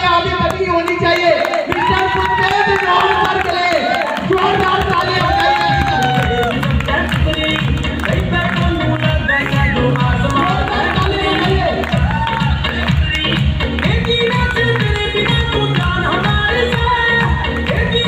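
Crowd at a Topaz promotional event applauding and cheering for a speaker's elder brother, loud sustained clapping and shouts mixed with music and voices throughout.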